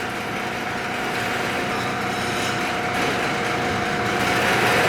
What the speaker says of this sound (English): The little bit of rattling that you hear is actually right here. What it is this speed control just rides on a bearing.